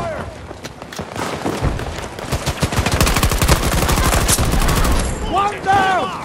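Rapid automatic gunfire in the video game Battlefield, a loud, sustained run of sharp shots that builds to a dense volley, with shouted voices over the start and end.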